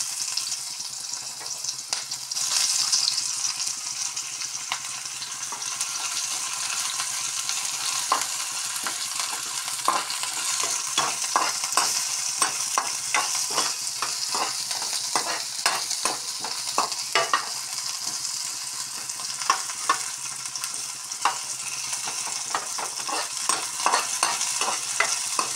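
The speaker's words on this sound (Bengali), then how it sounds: "পেঁয়াজগুলোকে বেশি ভাজবো না, হালকা হালকা ভাজবো।" Onions fry in hot oil, a bright continuous sizzle close up with frequent crackling pops and scraping stirs running throughout.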